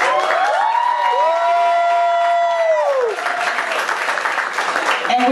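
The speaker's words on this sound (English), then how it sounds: "Can y'all give a round of applause for independent music?" Applause and cheering rise from the audience at an album listening party celebrating independent music, loud and dense, with sustained whoops and long held tones running over the clapping and a voice briefly cutting in near the end.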